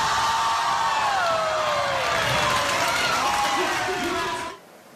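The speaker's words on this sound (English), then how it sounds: "And the crowd went wild." Crowd noise from a small-town school audience cheering a student's shot, a dense steady roar of applause and whoops that holds loud for several seconds, then cuts off abruptly.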